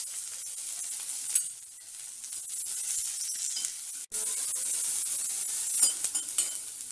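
Ginger, green chilies, beans and capsicum sauté in a little oil with a soft, even sizzle. Occasional stirring scrapes and light clinks sound over it, and there is one brief break midway.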